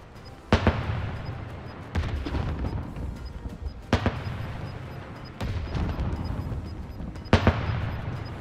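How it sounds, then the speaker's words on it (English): Gunfire in Call of Duty: Warzone, five loud sharp shots spaced about two seconds apart, each one trailing into a rumbling echo over a steady background of battle noise. "He's getting shot at."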